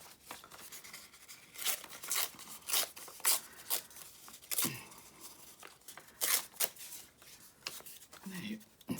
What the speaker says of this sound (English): some people don't like the sound of tearing paper, but I absolutely love it